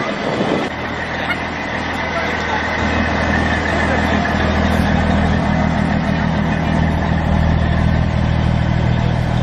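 Heavy diesel engine of a custom show truck at a super rigs competition rumbling steadily at idle, a loud low drone that builds slightly and holds throughout with nearby chatter under it.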